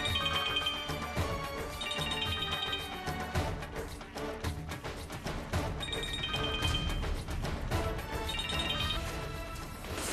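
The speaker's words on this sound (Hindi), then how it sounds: "pick up the phone." A mobile phone rings in a Hindi TV drama scene, its ringtone repeating in short, bright bursts over dense background music.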